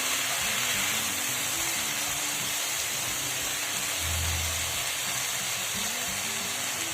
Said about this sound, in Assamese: কমেও মই 3 মিনিটমান, 3 মিনিটমান এনেকৈ অকণমান ভাজি ল'ম